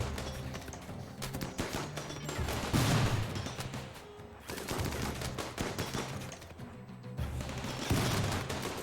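Sustained gunfire from a RimWorld battle, including a Viper weapon, with dense overlapping shots and heavier booming bursts recurring every few seconds, fairly loud and continuous with no talk.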